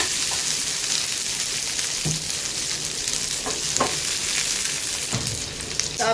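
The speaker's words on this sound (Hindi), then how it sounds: "तो और अब इधर से करेंगे हम फ्राई और थोड़ा सा" Potatoes with coriander fry in a hot pan for a Kashmiri dum aloo, a loud steady sizzle close by with occasional stirring scrapes and no speech.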